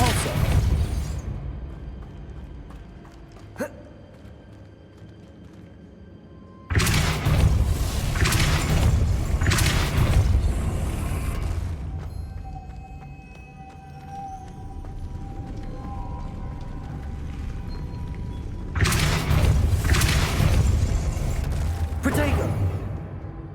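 Depulso spell effects in the Hogwarts Legacy video game: heavy whooshing bursts and rumbling impacts surge in twice over a steady background of game sound, loud and full, with a voice briefly calling out spells.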